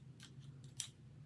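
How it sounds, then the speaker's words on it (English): Two quick, faint snips of scissors cutting, close by, over a low background hum. "Scissors."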